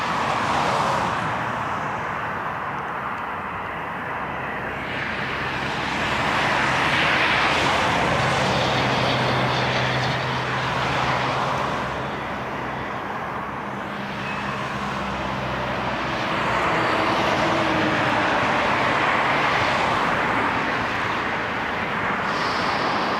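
Lufthansa airliner at a cold, snowy Toronto airport, its engines a steady broad roar that swells and fades twice over the span, heard from a distance amid wind and background rumble.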